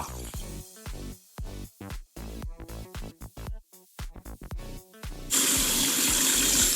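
Tap water runs into a sink, at first splashing and broken as something passes under the stream, then pouring in a steady, louder rush for the last second or so.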